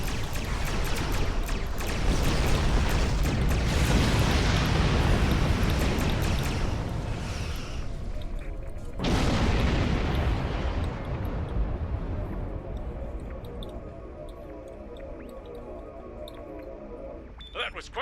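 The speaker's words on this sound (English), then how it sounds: "That was quite an explosion." Ship exploding in the space game Star Trek Online, a loud sustained rumbling blast with a second burst midway, fading into quieter game ambience.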